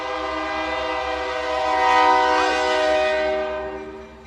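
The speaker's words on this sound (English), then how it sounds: "let the train go by" A passing train sounds a long, loud sustained horn chord that swells and then fades, with a steady rumble underneath, heard from near an outdoor service.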